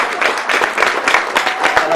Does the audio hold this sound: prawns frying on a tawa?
no